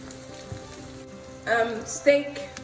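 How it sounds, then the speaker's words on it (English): Beef cuts frying in oil in a skillet give a steady crackling sizzle like rain on a surface, with two louder clattering bursts near the end. "my beef cuts have been frying for a bit"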